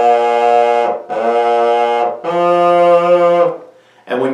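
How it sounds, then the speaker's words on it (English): A kazoo hummed into produces buzzy, nasal held notes, three sustained tones at shifting pitches with short gaps, close and loud, followed by the start of another note. "if you want to use it as a musical instrument, then you just hum into it"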